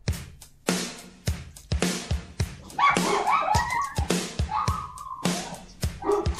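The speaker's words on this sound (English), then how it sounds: "please excuse my dogs" Several dogs bark in quick, sharp bursts, mixed with high yips and a brief whine, fairly close and steady throughout.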